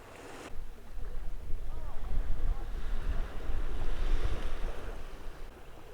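Waves washing onto Ao Sane beach in Phuket, a soft rolling surf swelling and easing under gusty wind buffeting the microphone, with nobody speaking.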